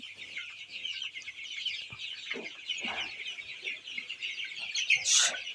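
Tiger-breed chickens on a poultry farm cluck steadily and close up, with a busy flock chatter running throughout and a louder squawk near the end. No one speaks.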